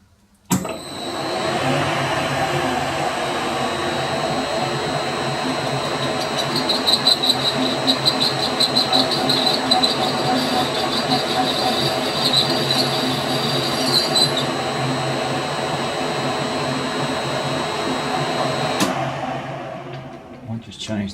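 A metal lathe cuts metal dry with no coolant, a steady whirring drone with a high whining tone and rising scraping chatter in the middle, starting abruptly and cutting off near the end.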